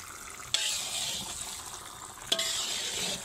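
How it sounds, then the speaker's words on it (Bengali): Chicken sizzles and fries with spices in a hot pan, a dense hiss broken by two sharp scrapes of a stirring utensil, close and steady. "এবার বেশ কিছুক্ষণ এটা কিন্তু মশলার সঙ্গে কষতে হবে চিকেনটাকে।"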